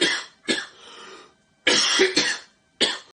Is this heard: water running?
no